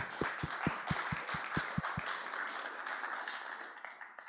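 Attendees at the BSidesSF 2020 closing ceremony applaud the event sponsors, a scattered, fairly faint round of clapping in a large hall, with a few louder thumps early on as the applause gradually fades.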